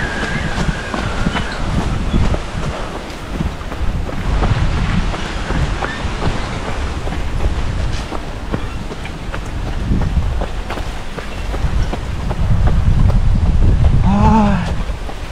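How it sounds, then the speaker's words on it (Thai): Wind blows on a mountain trail during an uphill trail run, a continuous rough rumble buffeting the microphone, with brief clicks and a short voice near the end. "ลมเพิ่งพัด"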